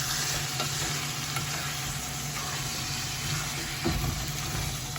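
Salt mackerel rundown simmers and sizzles in a pot, a steady close hiss with faint scraping under it and one brief knock near the end.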